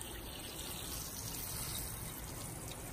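Warm shower water runs continuously over a pit bull puppy during its first bath, a steady, fairly quiet hiss of spray with no voices.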